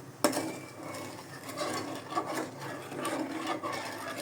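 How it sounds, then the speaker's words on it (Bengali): Sugar being stirred in a pan for kunafa, a soft scraping, rubbing sound that repeats in an uneven rhythm, heard close and alone. "চিনিটা দিয়ে আমি এটাকে ভালো করে নেড়ে নেব।"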